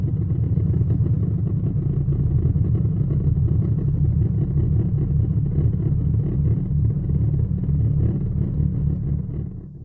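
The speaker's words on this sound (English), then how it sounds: "And so the sun sounds like this." The sun's pulsations, translated into audible sound, come through as a dense, continuous low rumble that holds steady for about ten seconds before easing off slightly at the end, with no voices.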